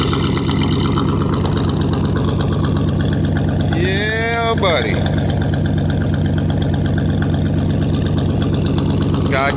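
A 1984 Chevy Corvette engine runs steadily close by, a loud continuous idle rumble that rises briefly in a rev midway, with someone talking over it.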